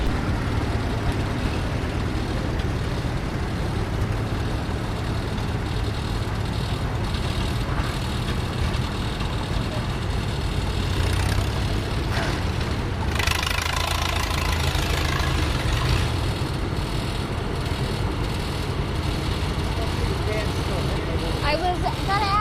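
A tractor engine at a Chenango County tractor pull roars in a loud, continuous, gritty drone, with voices talking faintly over it.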